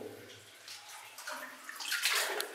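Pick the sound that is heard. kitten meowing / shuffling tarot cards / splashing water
splashing water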